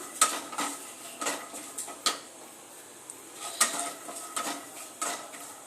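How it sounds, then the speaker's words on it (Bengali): Peanuts being stirred while frying in oil, with repeated clinks and scrapes of a utensil against the pan in an irregular rhythm and a faint sizzle underneath, close up and with no talking. "ওই 2 থেকে 3 মিনিট মতো তেলের মধ্যে নাড়াচাড়া দিয়ে বাদামগুলো একটু ভেজে নেব।"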